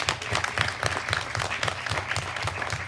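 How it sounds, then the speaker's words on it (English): An audience at a student film premiere at a youth media summit applauds, a dense, steady round of clapping heard at moderate distance with no talk over it. "Please give yourselves and tonight's filmmakers one more round of applause."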